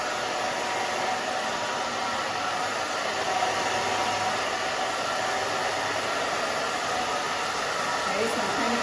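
A hair dryer blows steadily while a thick pixie cut is being blow-dried, a loud, even, continuous airy roar with no breaks.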